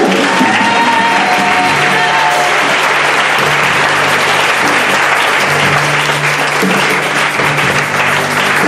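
A church congregation at a prophetic seminary service in Abidjan breaks into loud, sustained applause, with whoops and shouts mixed into the steady clapping throughout, over a low held organ-like tone.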